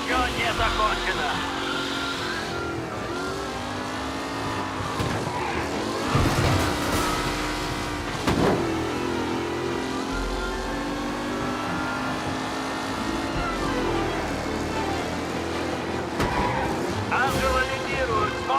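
Race cars compete in a race in the video game Mafia Definitive Edition, engines revving and whining with occasional skids, sustained and fairly loud beneath a commentator's voice.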